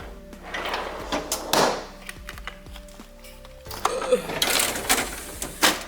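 Fridge drawers and compartments slide open and shut in a repeated series of clunks and rattles, close by, with a person talking over part of it.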